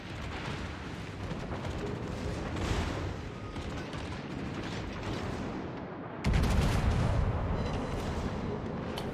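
A warship's main gun salvo in World of Warships, a continuous thundering roar of naval artillery that swells louder and heavier partway through, with no voices.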